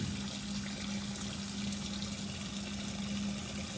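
A lab water tap runs in a steady, unbroken stream during paper filtration, a constant soft hiss with a faint low hum underneath and no voices.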